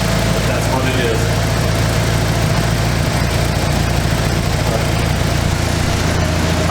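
A Mitsubishi Eclipse GSX engine idles outdoors in snow with a steady, loud, low rumble that continues unbroken throughout, while someone talks over it.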